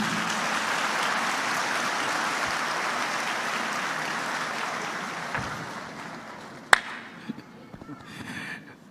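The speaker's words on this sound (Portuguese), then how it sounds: "Uma salva de palmas" A church congregation applauds a visiting pastor, with broad steady clapping that slowly fades out and ends in a few scattered claps and one sharp knock.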